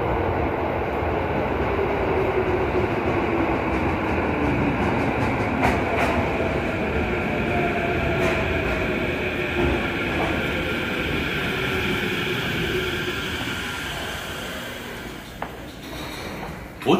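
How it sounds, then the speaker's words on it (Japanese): A Tokyo Metro Tozai Line train bound for Mitaka rolls into Ochiai station on track 2, its rumble and rising wheel squeal sustained for a long stretch as it slows, with faint clicks near the end. "The train bound for Mitaka is arriving at track 2."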